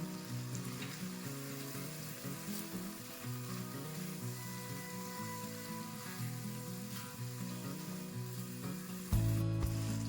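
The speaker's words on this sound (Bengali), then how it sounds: "মশলাটা খুব সুন্দর মতন বসে এসছে দেখুন তেলও ছেড়ে দিয়ে দিয়েছে" Fried spice paste sizzles in oil for a cauliflower and potato curry, a continuous bright crackle with soft stirring scrapes, close and steady throughout, and a louder thump near the end.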